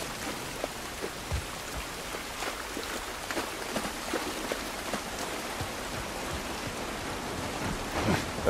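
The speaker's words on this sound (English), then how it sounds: "This rain ain't gonna do us any good." Steady rain pours outdoors in the video game The Last of Us Part 1, a dense even hiss of drops with scattered sharper patters throughout and no speech.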